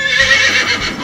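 A horse being harnessed to a buggy with a breast collar lets out a loud, close whinny lasting about a second, with faint hoof shuffling underneath.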